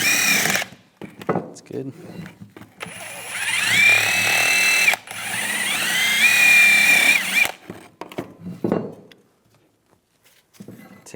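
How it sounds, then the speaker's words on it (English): A power-driven wire brush scours the front brake caliper bracket of a 2010-2014 Volkswagen GTI. It runs in two loud, sustained whirring bursts with a thin whine, framed by clanks and handling noises, and someone speaks briefly. "Now we're going to clean up the caliper bracket. I'm just going to use a wire brush."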